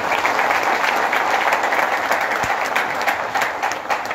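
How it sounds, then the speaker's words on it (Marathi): An audience at a seminar applauds loudly, a dense, sustained burst of clapping from many hands that continues steadily and thins slightly at the end. "पुन्हा एकदा तुमच्या स्वतःसाठी जोरदार टाळ्या झाल्या पाहिजे."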